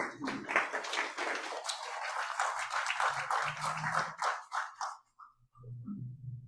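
A town hall audience gives a state representative a round of applause. The clapping is moderate and fairly close, runs for about five seconds, then fades out into quiet with a few faint murmurs.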